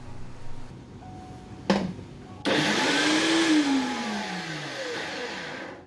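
A blender grinds a ginger-heavy spice paste for Indonesian chicken rendang. After a quiet stretch and a brief knock, the motor starts loud and close, its whine climbing and then sagging as it runs to the end.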